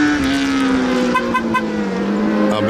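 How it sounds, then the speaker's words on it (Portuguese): A Fiat Pulse Impetus starts by itself from its remote key and settles into a steady, close, even engine hum, with no talking. "Abriu o retrovisor e já funcionou o carro sozinho."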